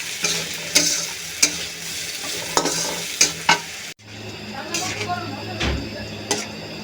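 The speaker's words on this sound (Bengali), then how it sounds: "আবার একটু মিশিয়ে ভাজা ভাজা করে নিচ্ছি।" Mung dal with a rohu fish head, green chillies and sugar is stirred and fried in a pan, giving a steady sizzle broken by repeated spoon scrapes and knocks against the pan, close and clear.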